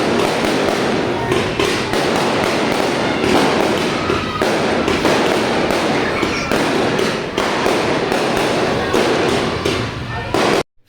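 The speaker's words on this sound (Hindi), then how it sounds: "फिर खाना बनाने के बाद शाम में बाहर में बहुत पटाखे उड़ रहे थे" Firecrackers go off outside in Delhi in a dense, loud, continuous crackle of overlapping bangs and pops, lasting about ten seconds before cutting off abruptly.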